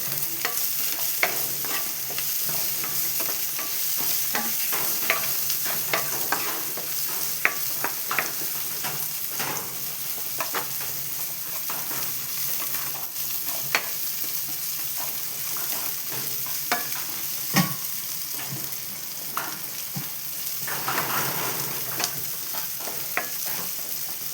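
Onions sautéing in a pan for a homestyle Kerala mushroom masala curry, with a steady sizzle and frequent scraping stirs of a spoon throughout, close and fairly loud with no talking.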